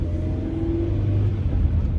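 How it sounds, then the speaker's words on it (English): A SEPTA city bus in Philadelphia rumbles past nearby with a steady low engine drone and road noise, heard from inside a car on a city street. "We got the SEPTA bus right here on my right-hand side."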